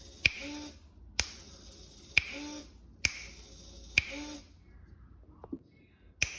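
Sharp finger snaps, six in all, roughly one per second with a short gap before the last, each switching an ESP32 sound-activated toggle; a faint motor whirr runs between them with a brief mechanical clunk near the end.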